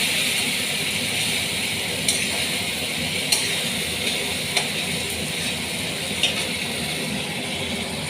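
Grated tomato, ginger and green chilli fry with potatoes in a pan, a continuous moderate sizzle with a few sharp clicks of a utensil against the pan, no voices.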